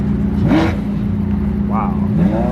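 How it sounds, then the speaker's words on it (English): A Mirage GT or Gumbala supercar pulls in nearby at a rally, its loud engine revving in short rising and falling bursts over a throbbing idle, with voices talking over it. "So pulling in is a Mirage GT or Gambala."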